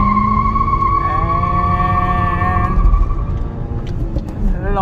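A Skoda Laura launches hard with traction control switched off, its engine revving loudly through rising and falling tones as the tyres spin, close and dominant, before easing toward the end.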